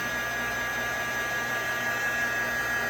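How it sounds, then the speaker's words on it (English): A miniature low-heat, low-airflow drying tool similar to a small hair dryer blows on paint, giving a steady, constant whirring hiss with a faint electrical hum. "It's just a low heat, low wind, little kind of a miniature hair dryer."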